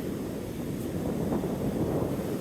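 Ocean waves wash in the wet sand zone of a beach, a low rumbling surge mixed with wind buffeting the microphone, heard close and continuous with no talk.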